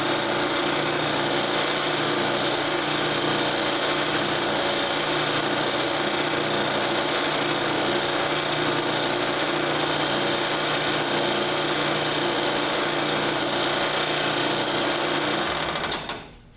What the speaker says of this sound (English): I'm probably not going to show 30 minutes of me blending.